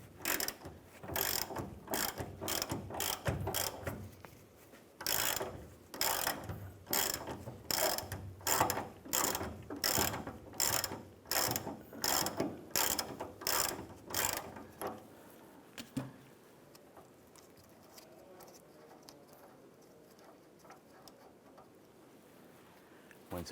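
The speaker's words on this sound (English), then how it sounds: "we're going to use a 17mm socket. Go ahead and loosen and remove the nut here." A ratchet with a 17mm socket loosens the upper shock mount nut on a 1993-1997 Ford Ranger, a long run of sharp, evenly spaced clicks close by, then it stops and quiet shop ambience remains.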